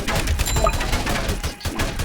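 A minigun fires in a video game as a rapid, dense, continuous stream of shots with thumps and booms mixed in, loud and close throughout.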